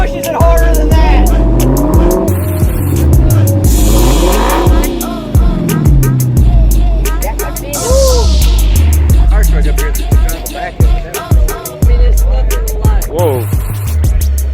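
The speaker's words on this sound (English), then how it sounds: "Cold start on a Demon." A Dodge Demon starts cold at a Cars and Coffee meet and is revved hard: loud, close engine roars that rise and fall repeatedly, with people talking nearby.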